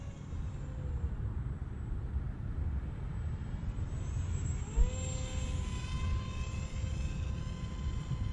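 A J-Wings Genesis RC airplane flies over open ground, its electric motor whining steadily under a broad hiss, with the pitch sliding and rising as it passes and banks, alone with no talk.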